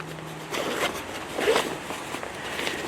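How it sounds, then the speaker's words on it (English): Zipper on a 5.11 Rush 100 backpack being pulled along its bottom compartment, a short close ratcheting zip of about a second or two with quiet handling around it. "we have our bottom zipper"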